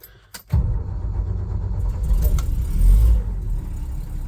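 A 1976 Toyota FJ55 Land Cruiser, all original, starts and idles with a deep, close low-frequency rumble that swells briefly as it revs while turning around, then settles back.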